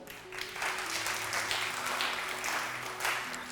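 A studio audience on a Ramadan quiz show gives a contestant steady, even applause, a dense wash of clapping that holds for a few seconds with faint tonal music underneath.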